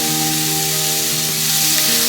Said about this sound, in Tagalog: Lagyan na natin yung hipon. Haloin natin ulit.